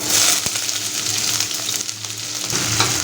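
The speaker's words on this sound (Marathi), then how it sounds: "कांदा चांगला परतून घ्यायचा" Onion fried in hot oil with whole spices: a loud, close, continuous sizzle with light stirring clicks and scrapes mixed in.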